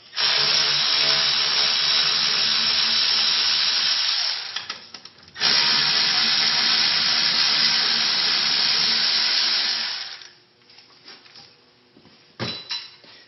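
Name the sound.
removing brake caliper bolts with tool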